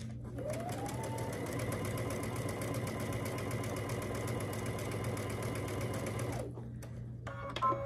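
Close, steady whir of a sewing machine stitching a quilt block with a quarter inch seam, running continuously for several seconds before stopping, followed by faint handling clicks.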